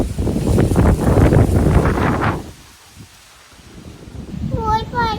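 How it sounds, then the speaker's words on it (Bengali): Wind gusts buffet the microphone outdoors around a rural house, a low rumbling roar under people talking, then it eases and a bird chirps at the end. "দেখুন কি সুন্দর হাওয়া দিয়েছে।"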